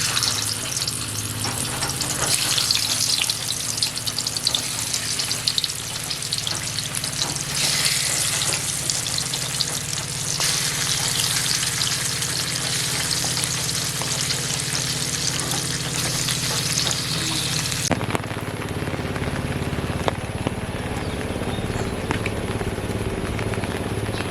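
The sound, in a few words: sitapati and bele fish frying in hot oil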